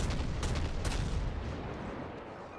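American naval guns firing in a warship video game, heavy booming reports in quick succession that roll into a long rumbling decay, loud and close, with no talking.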